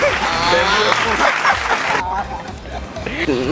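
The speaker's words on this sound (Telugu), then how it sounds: "right answer claps" Applause breaks out for a right answer in a funny common-sense quiz, a burst of clapping mixed with laughter and chatter, loud and close, dropping off after the first two seconds while voices continue.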